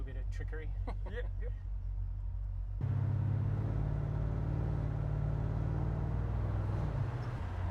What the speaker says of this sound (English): if you want it to have a bit of a idly sound to it, you just chuck it in neutral